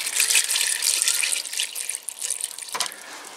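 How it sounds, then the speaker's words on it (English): Water is poured into a tumbler holding aluminum discs for tumble finishing, a steady close splashing hiss that eases briefly before a short gurgling burst near the end. "what I'm going to do now is I'm just going to put some water in here"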